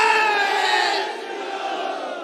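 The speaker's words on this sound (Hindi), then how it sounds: "पूरा सदन बोले जय जय श्री राम" A crowd at a Hindi comedy poetry gathering chants a devotional 'Jai Shri Ram' in unison, many voices merging into a loud, sustained roar that eases slightly midway.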